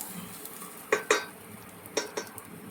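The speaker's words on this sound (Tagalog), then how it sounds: "ginisa natin ang bawang, sibuyas at luya" Garlic, onion and ginger sauté in a pan, with a faint low sizzle under a few sharp metallic clinks of a utensil scraping and tapping the pan, close by and without talk.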